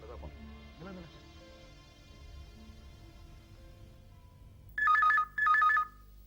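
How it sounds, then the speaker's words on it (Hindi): After a quiet stretch with faint background sounds, a telephone rings twice in quick succession, loud and close, each ring a rapid trilling bell. "ये ठाकुर को फोन लगा और उसको बोल पार्क में आके मिल"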